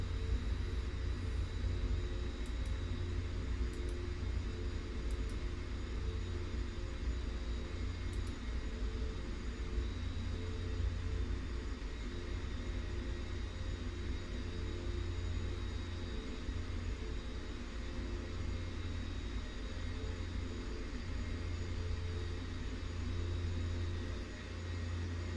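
Simulated airliner in X-Plane 10 rolling down the runway after a long landing, a steady loud engine and wheel rumble with a constant hum holding unchanged throughout, no voices.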